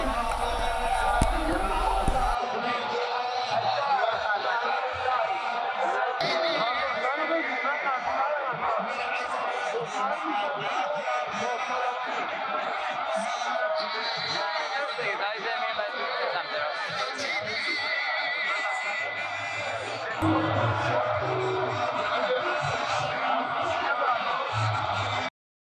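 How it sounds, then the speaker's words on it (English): A vast crowd of pilgrims fills a shrine courtyard during Arbaeen, producing a continuous roar of overlapping voices, shouts and chatter that never lets up, loud and enveloping throughout. "The crowd simply never abates."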